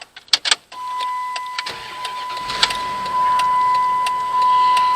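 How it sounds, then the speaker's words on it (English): 2005 Dodge Dakota started with the ignition key: a few clicks and chimes, then the engine cranks and settles into a steady idle alongside a constant electronic tone, close and fairly loud. "Insert the original key into the ignition and start the vehicle."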